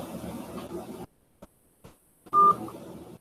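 Telephone keypad tones beep through a quiet line, with faint background murmur before and after, one tone ringing out clearly near the end.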